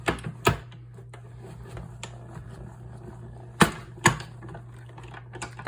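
A die-cutting machine presses paper through a detailed die, giving a low steady motor hum punctuated by a few sharp clicks and clacks, close and fairly quiet.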